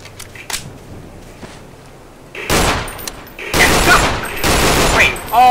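A gun in the video game Underhell fires first in single shots, then in rapid automatic bursts, loud and close, with a voice talking before the firing starts.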